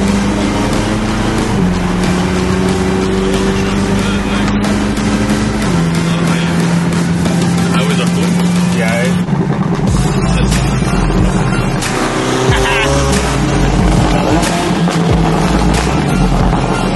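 A car engine drones loudly at a steady pitch while driving, its tone stepping up and down with gear changes, mixed with heavy wind and road rush.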